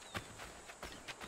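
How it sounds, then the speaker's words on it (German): Horse hooves clip-clop in Assassin's Creed 3, four or five soft, evenly spaced hoof strikes at a walking pace, faint and fairly close. "Hier da ein Pferd."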